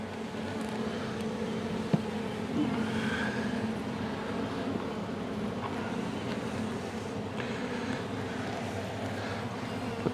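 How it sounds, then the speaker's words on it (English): A dense, steady hum of many honeybees buzzing in a hive, a continuous low drone filling the space close by. "by the way those bees are roaring"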